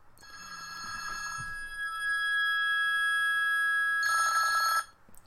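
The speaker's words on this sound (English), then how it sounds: "Oh, my phone rang" A mobile phone rings with a steady, piercing electronic tone that holds for several seconds, swells brighter near the end, then cuts off abruptly in a quiet room.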